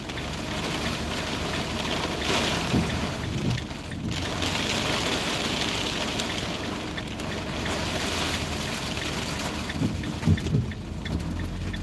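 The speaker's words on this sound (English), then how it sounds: "This is this storm coming down from Alaska." A rainstorm brought by cold winds pours steadily, with a dense hiss of heavy rain and low rumbles that could be distant thunder, loud and continuous with no voices.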